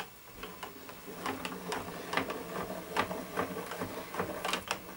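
A Todo die-cutting machine running a die, a quiet, steady run of rhythmic mechanical clicks and whirs lasting several seconds with no talk.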